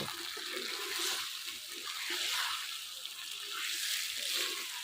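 Water poured slowly into chicken braising in a pan for a homestyle Bengali chicken kosha, giving a steady hissing sizzle that rises and falls, fairly quiet, with no talking.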